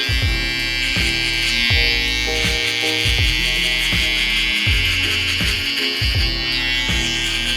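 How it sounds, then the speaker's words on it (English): A close, steady electric buzz from a skin trimmer cutting hair down to the skin for a fade, running continuously with a regular pulsing rhythm as the blade passes over the head. "we're going to go all the way down to our skin trimmer"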